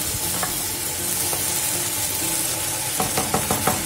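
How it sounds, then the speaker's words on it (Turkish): Beans being stirred and sautéed in a pan for a Black Sea-style bean dish: a steady, continuous sizzle with spoon scrapes and light knocks against the pan, growing busier toward the end, with no talking. "iyice kavuruyoruz"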